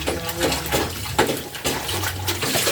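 Tomatoes being washed in a bowl of water while omena sardines are prepared, with steady splashing and sloshing that swells and eases in bursts, close and fairly loud, with no talk.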